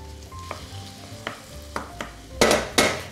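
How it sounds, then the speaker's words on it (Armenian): Meat sizzles in a pan with a little vegetable oil while being stirred: a soft frying hiss underneath, with several sharp utensil taps and scrapes that grow louder toward the end. No one speaks. "Տապակում ենք այնքան, մինչև միսը գույնը փոխի"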